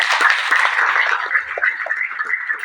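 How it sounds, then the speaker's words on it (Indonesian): Audience applause at a crowded seminar hall, a steady dense wash of many hands clapping together that holds fairly loud and even for the whole stretch, with no speech over it. "Tepuk tangan dulu dong."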